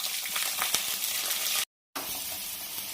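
Chopped onions, green chillies and curry leaves hit hot oil in a kadai with a bright, crackling sizzle and a few sharp pops, broken by a brief moment of total silence before the frying resumes.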